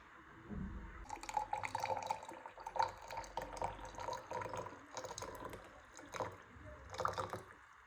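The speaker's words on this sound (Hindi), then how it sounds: "ऊपर से पानी डालूंगी।" Water poured from above over a small heap of tea leaves in a strainer, a trickling, splashing pour with drips that runs steadily for several seconds, close and moderately loud.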